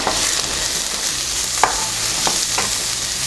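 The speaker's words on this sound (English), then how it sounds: "And just cook this until the onions also start to soften and get some color." Onion and garlic fry over medium-low heat in a pan, giving a steady close sizzle with a few sharp scraping stirs spaced through it.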